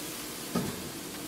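Meat with Cajun seasoning sizzles in a pan as it is flipped, a brief soft stir-and-hiss burst in the middle of quiet frying, alone and fairly faint.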